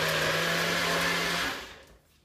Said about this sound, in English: You stick it onto the top of the blender and you